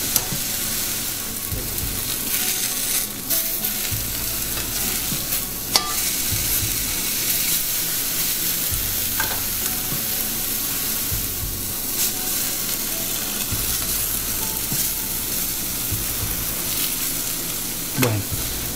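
Pineapple pieces sizzle in a frying pan as they are turned, giving a loud continuous hiss and crackle up close with occasional scraping knocks.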